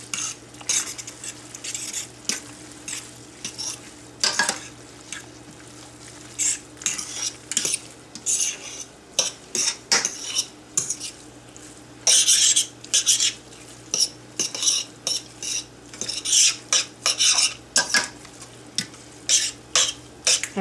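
Noodles being stirred into mushroom gravy in a pan alongside steak and wild mushrooms make repeated close scraping and clinking of a utensil against the pan, in irregular bursts over a faint sizzle.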